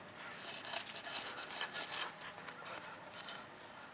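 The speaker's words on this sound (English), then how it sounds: "Scrape around it all the way around it." Soil is scraped around the base of a tomato plant in a faint, close, continuous gritty rasping.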